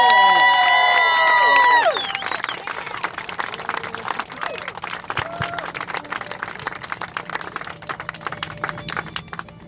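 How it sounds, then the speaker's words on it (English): Wedding guests clap and cheer for the newly married couple at the close of the ceremony. A burst of whoops and shouts comes first, then gives way to steady crowd applause with scattered voices. "Don't let the applause stop."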